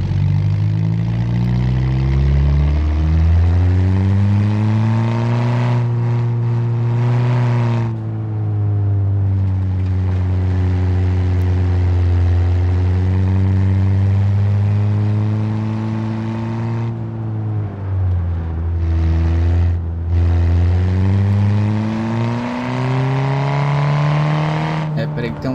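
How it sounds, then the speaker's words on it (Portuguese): A car engine in the BeamNG.Drive video game revs up and down in long sweeping pitch rises and falls, loud and close, with brief drops between pulls where turbo blow-off may sound. "Olha a turbininha espirrando."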